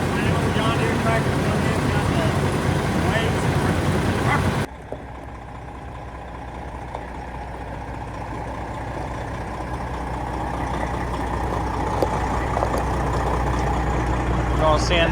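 Diesel engine of a Kenworth W900 truck rumbling steadily, loud and close at first, then dropping to a lower, quieter idle that slowly builds again.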